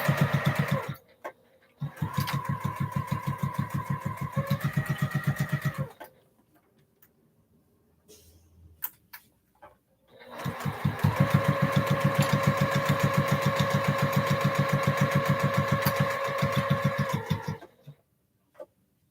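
Sewing machine stitching fabric in two long runs, a rapid steady mechanical chatter close up, separated by a quiet pause with a few small handling sounds.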